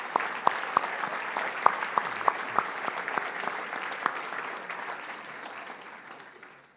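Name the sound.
big round of applause from dinner audience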